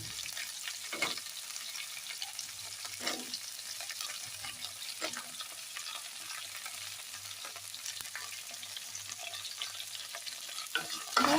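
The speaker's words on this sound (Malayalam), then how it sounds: "വെണ്ടയ്ക്ക ഇളക്കി നന്നായിട്ട് ഒന്ന് മൂപ്പിച്ചെടുക്കും" Okra fries in a pan with dried red chillies and curry leaves for a Kerala theeyal, a steady broadband sizzle with occasional spatula scrapes and stirs, close and continuous with no talk.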